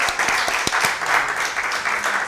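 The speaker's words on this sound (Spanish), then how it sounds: "Un aplauso." Applause during a live cooking show: a short burst of steady clapping from a small group, moderately loud, with a few sharper individual claps standing out.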